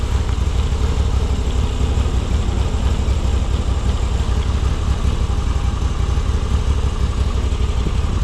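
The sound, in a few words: Moto Guzzi V85TT motorcycle engine idling in neutral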